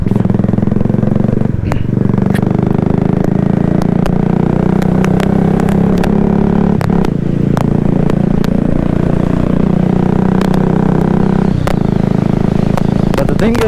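A motorcycle fitted with a newly installed exhaust rumbles loud and close throughout a ride, its engine note rising and falling with gear shifts, with wind buffeting and sharp clatters over it.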